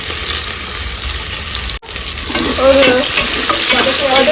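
Curry leaves, garlic and onion sizzle steadily in a hot pan for a lunch-box dish, with close stirring. There is a brief break near the middle, then the frying sounds resume, slightly louder.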